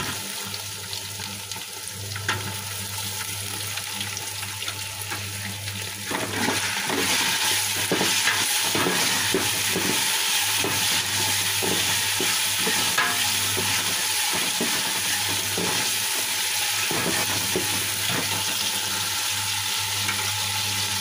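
Shrimp frying in a pan for fried rice sizzles steadily, growing louder after a few seconds, with intermittent clinks and scrapes of stirring over the hiss.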